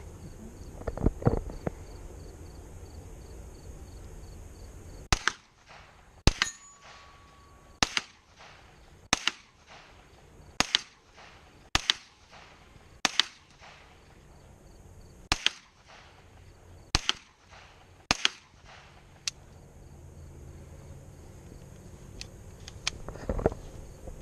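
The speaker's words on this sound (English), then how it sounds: "he's going to be firing off the Kel-tec" A Kel-Tec gun fires about a dozen sharp single shots at an outdoor plinking session, each crack loud and isolated, spaced a second or two apart, with quiet gaps between.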